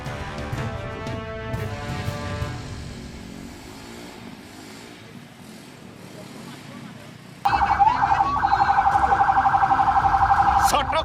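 A fire engine stuck in dense carnival traffic in a village street sounds its siren, first under a jumble of loud music and crowd noise, then a sudden close, loud, steady wailing tone dominating the scene.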